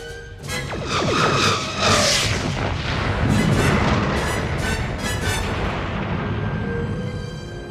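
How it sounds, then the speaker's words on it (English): Star Trek photon torpedoes fire in a full spread, a series of booming launches with swooshing tails that roll into a long rumbling wash, loud and up close with no voices. "Mr. Worf, photon torpedoes, maximum yield, full spread."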